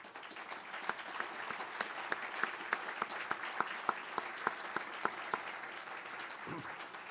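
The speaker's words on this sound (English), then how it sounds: "So let's give everyone a big hand." An audience gives competition participants a round of applause at a 2012 tristate event, a steady patter of clapping hands with a few sharper claps standing out.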